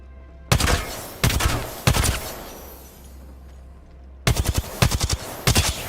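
Bursts of video game gunfire in separate clusters of rapid shots, a sharp volley at the start, two more quick bursts, a quieter gap, then a denser run of shots near the end, loud and close with no talk.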